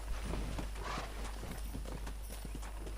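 Horse hooves clip-clop at a steady trot in the Red Dead Redemption video game, close and distinct over a low background hum.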